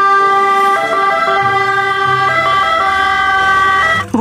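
A white toy ambulance plays an electronic siren, a loud close wailing two-tone pattern that keeps shifting pitch for about four seconds, with faint handling noise and no talking.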